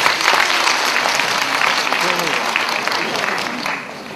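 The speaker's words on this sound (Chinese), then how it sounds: "来，给他们掌声鼓励一下" An audience at a magic lecture at the Beijing Film Academy gives a dense, steady burst of applause that fills the room for several seconds before tapering off.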